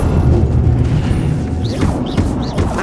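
Incendio fire spells cast during Hogwarts Legacy gameplay hit with loud booming bursts and crackling impacts, while rising whooshing spell effects sweep through the middle of the sequence.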